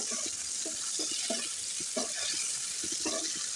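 Steady sizzling of pointed gourd frying in a pan, with intermittent scraping and stirring sounds, close and continuous.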